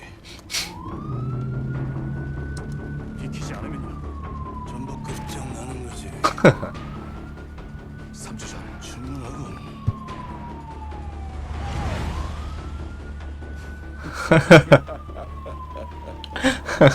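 A police car siren in the Call of Duty Modern Warfare campaign wails in long rising and falling sweeps, repeating three times over a steady engine hum, with sharp gunshot-like bursts and game effects in between.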